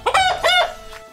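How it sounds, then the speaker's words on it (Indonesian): A rooster crows loudly and close, its call breaking into clucking notes in a single clear burst with no talk. "Ayam jago."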